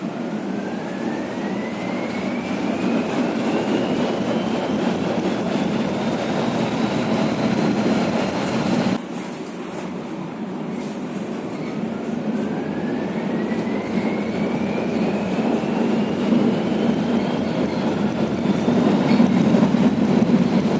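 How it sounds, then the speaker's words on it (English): A 1970s tram runs through Gdansk, its steady loud rolling roar filling the interior with a rising whine as it accelerates, a brief dip partway through before the motor tone climbs again, no talk. "the first tram is a really awesome, epic 1970s tram"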